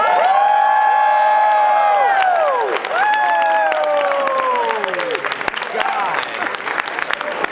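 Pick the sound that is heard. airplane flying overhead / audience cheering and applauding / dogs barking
audience cheering and applauding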